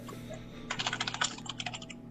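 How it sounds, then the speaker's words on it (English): Rapid typing clatters on a computer keyboard in a dense burst of quick keystrokes, coming in after a short quiet lead-in over a low steady hum, with no voices. "Typing a storm up in here."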